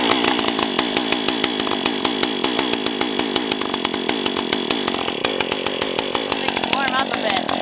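A chainsaw engine runs close and loud once the choke is dropped, its rough, uneven revving pulsing in a fast, stuttering rhythm throughout.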